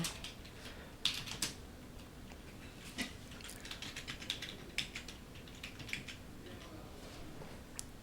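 Keys tapped on a computer keyboard, scattered clicks and short bursts of typing at close range over a quiet room hum, with no talking.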